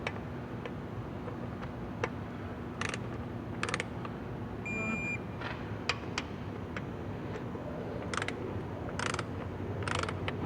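A ratchet tightens a nut on a stud during repair work on a Ford Escape with a Duratec 3.0L engine. Bursts of quick metallic clicks come close by and stop in between, over a low steady background hum.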